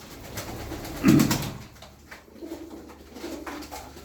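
Mardin pigeons coo softly nearby, a low throaty burst followed by quieter murmuring coos over faint background noise.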